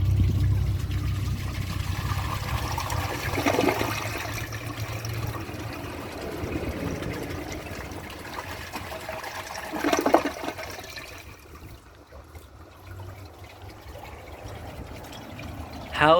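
A 2001 Capizzi toilet flushes during a dirt test, with rushing water and a couple of louder gurgling surges, then fading to a quieter refill trickle.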